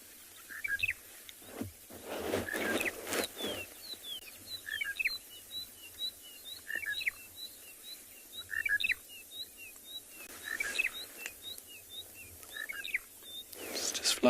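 Monotonous lark in the open savanna of a sunrise safari, giving a long series of short, evenly spaced chirps at moderate distance, with faint rustles and scattered soft sounds around it.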